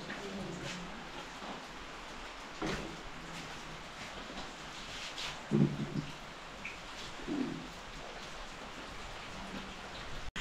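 Steady rain falling all day through a long downpour, a soft continuous patter on surfaces with occasional louder drips and faint bird calls in the background, heard alone at moderate distance.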